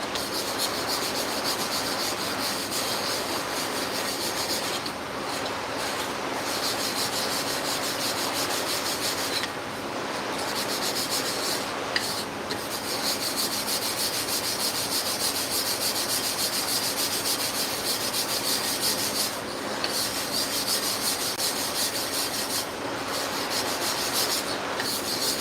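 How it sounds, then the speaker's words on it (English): Abrasive grit is spread and rubbed into a porous sharpening plate in a workshop, a continuous gritty scraping hiss with brief pauses, steady and close, no talking. "I'm spreading the abrasive and putting it into the plate"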